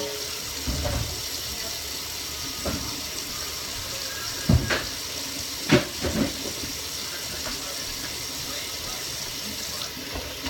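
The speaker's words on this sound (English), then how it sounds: "Gotta wash my hands." Tap water runs steadily from a kitchen faucet during handwashing while cooking, a broad continuous splash with a few louder knocks and clatters mixed in, fairly close.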